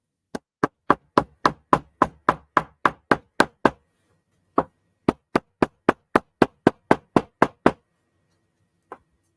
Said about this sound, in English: I will mute the camera while I hammer